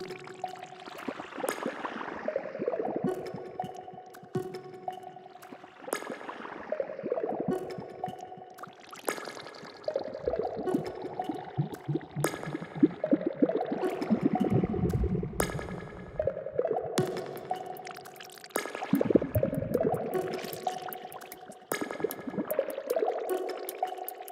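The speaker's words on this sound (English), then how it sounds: "I added water sounds to the intro." Water pouring and trickling as sound effects in a music production intro, an intermittent splashing stream layered over tonal music throughout.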